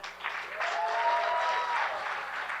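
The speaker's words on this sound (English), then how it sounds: "Can we have a round of applause for Abu Tahir?" A round of applause for Abu Tahir at an evening community event, a steady crowd clapping at moderate distance, fairly soft and even, with faint voices mixed in.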